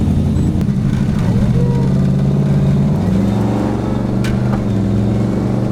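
A car engine with upgraded exhaust, turbos no longer running it, idles in a steady, low, subdued rumble that holds throughout, with no voices over it.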